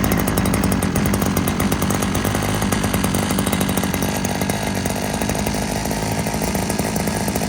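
Gas-powered brush cutter trimmer engine running just after starting with the choke on: a loud, close two-stroke drone, steady and buzzing, holding an even pitch throughout, with no talking.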